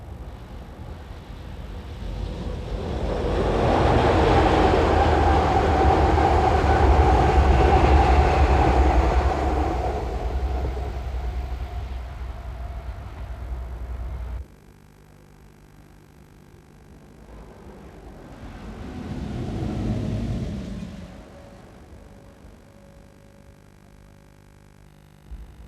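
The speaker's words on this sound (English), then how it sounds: "The result, for a locomotive-driven suburban train at 62 miles" A locomotive-driven suburban train passes close by at 62 mph, measured 82 feet away, with a loud rumbling roar that swells and fades, followed later by a quieter, shorter pass in the distance.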